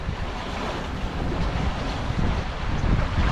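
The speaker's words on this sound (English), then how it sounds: "the minute you're out of the harbor, it's like, boom, wind, we're sailing, beating" Strong wind roars across the microphone while waves wash and slosh against a sailboat beating out of a harbor, a loud, continuous rush with surging swells.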